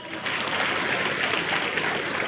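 A seated audience at a school felicitation lecture bursts into loud, sustained applause that swells after a brief start and holds steady, close and dense.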